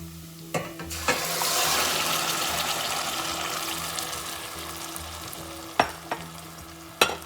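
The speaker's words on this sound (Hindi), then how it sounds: "लहसुन और प्याज सौते हो चुके हैं। यहाँ पर टमाटर डाल देंगे हम," Tomatoes frying with sautéed garlic and onion for pizza sauce give a continuous sizzle, broken by a few sharp clanks of a utensil against the pan.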